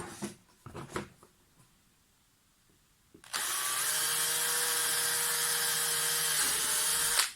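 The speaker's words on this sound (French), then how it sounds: "Donc maintenant que mes points sont faits, je vais pouvoir percer." Power drill from a furniture assembly tutorial boring a series of holes, starting with a few knocks and handling noises, then a loud, steady high-pitched whine running continuously for about four seconds with no voices.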